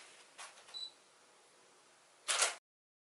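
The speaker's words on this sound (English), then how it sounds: "Now I can take some test shots." A camera with a 50mm kit lens and flash takes test shots, giving a couple of short, faint mechanical clicks and a quick shutter burst in near silence.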